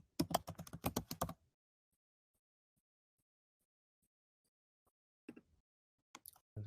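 A burst of fast typing clatters on a computer keyboard, then a long silence, followed by a few more scattered keystrokes near the end.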